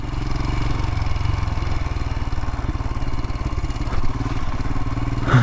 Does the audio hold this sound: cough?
no